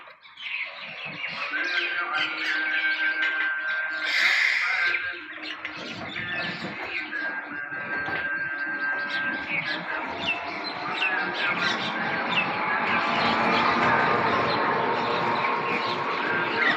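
Birds chirp and tweet continuously in a busy morning feeding spot near traffic, a dense chorus of overlapping calls at close range with steady background noise throughout.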